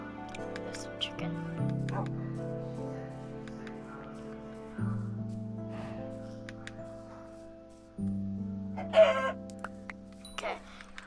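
Chickens cluck in the PlayStation 4 edition of Minecraft, short clucks scattered over soft, sustained game music notes, fairly quiet and intermittent.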